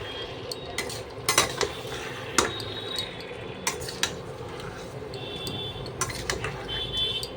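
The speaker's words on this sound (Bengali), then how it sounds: "এইভাবে আমি এটাকে ভালোভাবে কষিয়ে নেব" Chicken is stirred and sautéed in a pan for chicken kosa, with scattered metallic scrapes and clinks of a spatula over a soft, continuous low sizzle.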